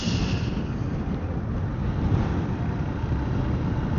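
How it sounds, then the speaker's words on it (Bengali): Steady, loud rush of wind buffeting the microphone, a constant low roar with no breaks throughout. "প্রচন্ড বাতাস।"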